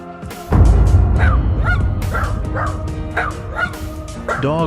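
A dog barks loudly and close by, repeatedly and in quick succession, with a few higher yelping calls mixed in and steady background noise underneath.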